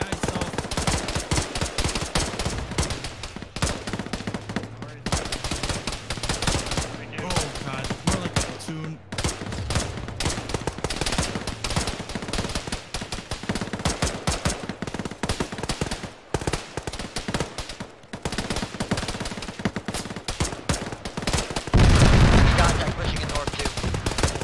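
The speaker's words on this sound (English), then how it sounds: "why is everybody shooting us?" Rapid bursts of automatic gunfire and scattered shots from a military video game firefight rattle almost continuously, loud and close, with heavier blasts near the end and players talking over the shooting.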